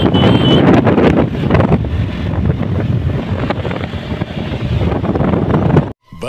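Loud wind roars and buffets a microphone on a motorbike riding fast at about 90 near Gorakhpur, a dense rushing noise that cuts out briefly near the end before resuming.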